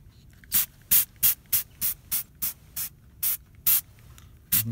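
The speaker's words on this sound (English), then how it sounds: "just spraying that water on just literally blasts it everywhere" A spray bottle fires eleven short, sharp bursts of water onto static grass in an uneven rhythm, each a crisp hiss, close and loud with quiet gaps between.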